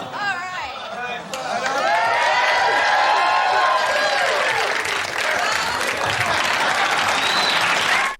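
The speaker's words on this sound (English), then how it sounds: "How much do people love the show if they're cheering a dog getting a hookup?" A sitcom studio audience for Married with Children swells into loud, sustained cheering and whooping with applause mixed in, rising after a quieter opening and holding at full volume until the end.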